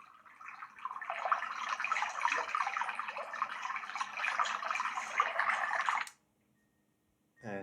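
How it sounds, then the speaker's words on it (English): A Letsfit white noise machine plays its water stream setting, a steady, moderately quiet babbling rush from a small speaker that stops abruptly, followed by a brief faint click. "Here we have water stream."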